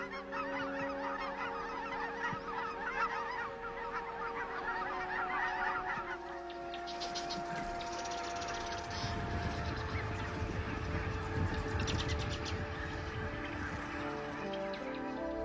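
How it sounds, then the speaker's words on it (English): Thousands of waterfowl gathered on spring wetlands in the high desert, geese honking in a dense overlapping chorus, moderately distant and continuous, rising and falling as birds call over one another. "Wetlands and waterfowl by the thousands."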